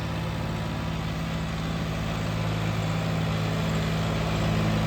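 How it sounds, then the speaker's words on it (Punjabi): A new John Deere 5210 4x4 tractor engine idles in a low, steady drone with a constant mechanical hum throughout, fairly close and unvarying. "ਟਰੈਕਟਰ ਦੀ ਆਵਾਜ਼ ਦੇਖ ਲੈ ਜਮਾ ਹੀ ਆਵਾਜ਼ ਨਹੀਂ ਆਏਗੀ"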